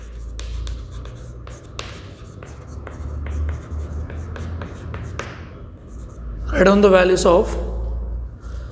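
Pen or marker strokes on paper or board while a math function problem is worked out, with quick repeated taps and scratches, and a voice talking briefly near the end.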